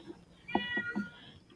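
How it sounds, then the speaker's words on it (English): A house cat outside wanting to come in gives three short, close meows in quick succession, clear against a quiet background. "if you hear meow, that's my cat."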